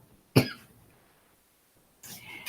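A single sharp cough rings out up close, then fades into near silence before a rough, breathy sound trails in near the end.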